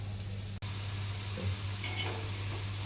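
Khurma dough fries in very hot mustard oil, a steady close sizzle with soft stirring and the light scrape of a utensil over the pan.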